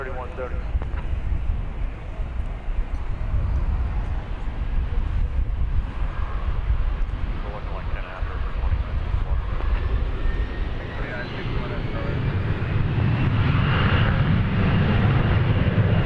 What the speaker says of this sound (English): That'll be an Airbus A320.